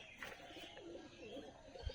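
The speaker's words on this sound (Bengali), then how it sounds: "কিছু কবুতর বাসার ভিতরেই আছে বের হচ্ছে না" Soft pigeon coos blend with faint chirps against a steady low background hum, with a brief low thump near the end.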